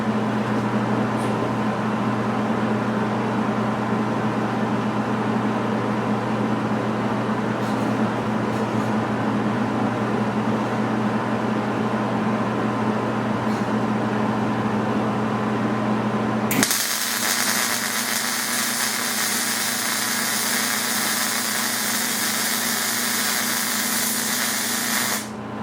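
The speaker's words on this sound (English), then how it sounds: "I'm hoping you can hear the sound of the machine as it's welding" MIG welder running a bead with the pull technique gives a steady crackling hiss under a constant machine hum, then the tone abruptly shifts to a brighter, harsher buzz near the end, close up and without talk.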